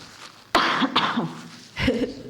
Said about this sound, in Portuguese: vocês vão ouvir um pouquinho de tosse